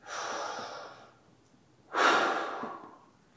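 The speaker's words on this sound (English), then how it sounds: "watch what this rifle does when I take a big deep breath in" A shooter takes a deep breath in and lets it out while aiming a rifle, two long, close, breathy airflow sounds separated by a short pause, the second stronger.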